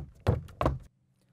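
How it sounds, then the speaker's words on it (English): Two solid knocks on a door, close and distinct with a short gap between them, then quiet. "Knock, knock."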